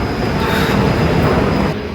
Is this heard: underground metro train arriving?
yes